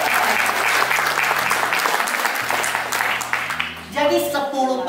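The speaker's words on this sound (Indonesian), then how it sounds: "tepuk tangan lagi dong buat mereka" Audience at a sales coaching seminar breaks into a round of applause, steady and fairly loud, while a voice speaks over it and music plays underneath.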